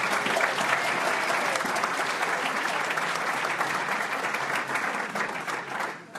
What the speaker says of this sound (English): maybe we could give them a little bit of a round of applause.